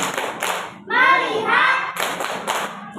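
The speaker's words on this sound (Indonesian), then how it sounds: "Ayo, kita tepuk fokus dulu ayo." Schoolchildren in an Indonesian classroom do a rhythmic focus clap, sharp grouped claps in short bursts broken by a chanted vocal phrase in the middle, near and fairly loud.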